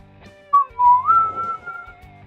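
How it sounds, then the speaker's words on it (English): A person whistles a short rising and sliding melody, loud and close, with a low background hum at the start and end. "Pardon me for whistling. No more whistling."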